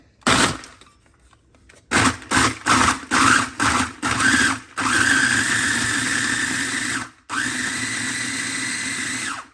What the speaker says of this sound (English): So I have this little baby mini food processor.